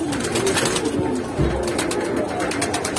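A young pigeon pair for sale calls with soft low cooing, close and fairly loud over a busy background.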